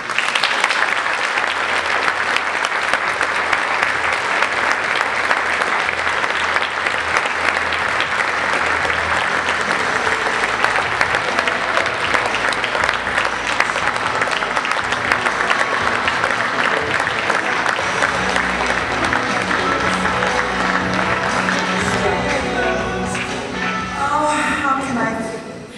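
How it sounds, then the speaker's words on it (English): Warm, sustained applause from the audience at a motorsports hall of fame induction ceremony, dense clapping filling the hall continuously for over twenty seconds, with a voice emerging over the fading claps at the very end. "Please welcome with your warm applause Rich's mom"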